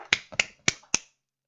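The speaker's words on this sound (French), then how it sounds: "Je vous applaudis." One person claps four sharp, close, evenly spaced times in just over a second, then stops into silence.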